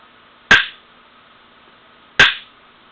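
An inertia bullet puller strikes a pressure-treated 2x4 twice, about 1.7 seconds apart, each a sharp, loud knock that decays fast, with near silence between.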